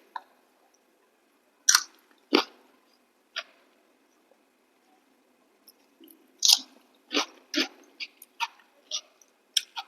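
Bites and crunchy chewing while eating a home-cooked Bengali meal of fried potatoes and okra, biuli dal and potato-pointed gourd posto, heard up close as about a dozen irregular crisp bites spread across a quiet background.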